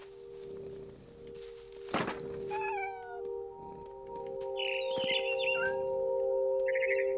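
A cat in the video game What Remains of Edith Finch gives a couple of meows over a constant musical drone, followed by high bird chirps and tweets.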